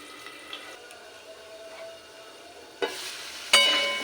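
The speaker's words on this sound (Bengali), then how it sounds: "প্রথমে আলুটা এক মিনিট মতন একটু ভাজা হতে দেব" Soft, continuous sizzling of potatoes frying in oil, close by, with a couple of louder stirring scrapes toward the end.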